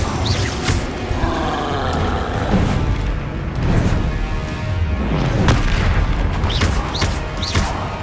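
Booming blasts from the Confringo spell in the Hogwarts Legacy video game erupt repeatedly over a dense, loud bed of combat effects and rumbling, with several sharp impacts spread across the span.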